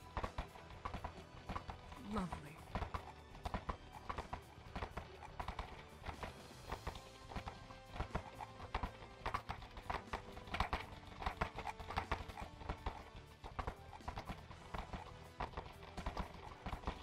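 Horses' hooves clip-clop at a steady riding pace, a continuous patter of close taps running throughout while people talk over it.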